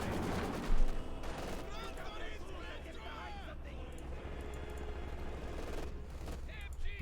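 Machine gun fire and other gunfire in a Company of Heroes 2 battle crackle in rapid bursts at moderate volume, running under continuous excited commentary.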